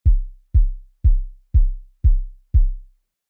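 Six evenly spaced synthetic bass drum hits from a midiSTEPs step sequencer on an iPad, each a deep booming thump with a quick decay, about half a second apart, loud and alone.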